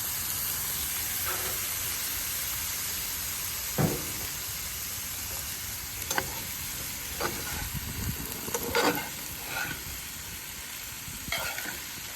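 Soy sauce sizzles hard on maitake, oyster and shrimp of the woods mushrooms frying with fish, a constant loud hiss broken by sharp clicks and pops.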